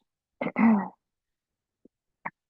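A throat clearing followed by a short cough, then two tiny faint coughs after a pause, close by and otherwise quiet.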